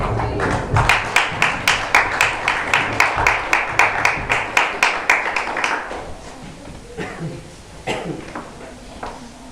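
Members of a church congregation clap in praise in a fast, steady rhythm of about two claps per second. The claps are close and sharp for several seconds, then trail off into a few scattered claps and faint murmuring.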